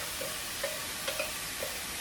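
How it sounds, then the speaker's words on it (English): Peas and stir-fried vegetables for a vegan Kung Pao sizzle in an oil-free non-stick pan, giving a steady close hiss with a few faint pops and no voices. "Hear that sizzle."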